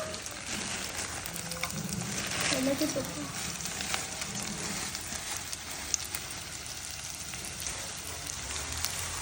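Anchovies going into a pan with onions fried golden give a low, steady sizzle with a few stirring clinks and scrapes, fairly faint throughout.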